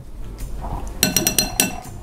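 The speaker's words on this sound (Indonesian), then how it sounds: "Nah, aduk lagi ya. Iya, aduk lagi." A spoon stirs food in a dish, with soft scraping followed by a run of sharp, rhythmic clinks of metal against the dish, fairly close.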